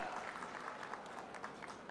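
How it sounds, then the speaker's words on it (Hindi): Crowd applauding at a political rally in Harda, a dense, even patter of many clapping hands at a moderate distance, continuing steadily for the whole two seconds. "जोरदार ताली बजाइए"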